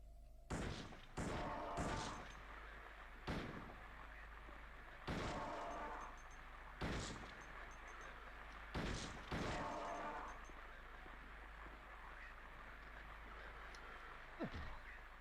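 Handgun fire in the video game Silent Hill 2, about ten sharp, loud shots spaced irregularly, some in quick pairs. A low steady hum and ambient game noise sit underneath.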